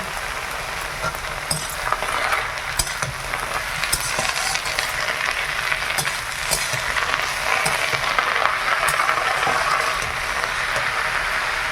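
Gourd leaves and salt sizzle steadily in a hot pan while being stirred, with a loud continuous crackle and scattered scraping ticks from the stirring throughout.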